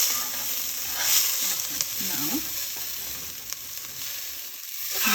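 Vermicelli with garlic and ginger fries in a pan, giving a steady, close hiss of sizzling oil with faint stirring scrapes and small pops, continuous and even from start to finish.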